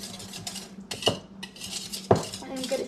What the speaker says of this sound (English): Stir the baking soda and salt.